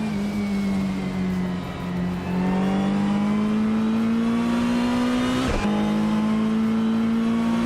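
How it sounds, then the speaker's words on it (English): A 1992 Citroën AX GTI races in a video game, its engine droning at a steady high pitch that climbs slowly, dips briefly mid-clip as if shifting, then resumes, with other cars faintly around it and no talk. "Riswa Qingyo is driving a 1992 Citroën AX GTI, currently in 11th place."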